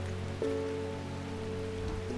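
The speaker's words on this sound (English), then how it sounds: "It has been raining every single day so far." Steady rain patters in the game Strange Horticulture, a soft even wash of drops under low sustained tones from the background music.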